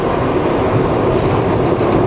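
A person imitates a train with the voice, making a steady, loud, rumbling rail-car roar with a rhythmic clatter like wheels on track. The sound runs without a break and no words are spoken.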